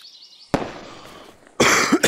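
Fireworks struck in the VR game A Township Tale: two sharp bursts, a crackling hiss after the first and a loud popping flurry near the end, fairly close with no talk.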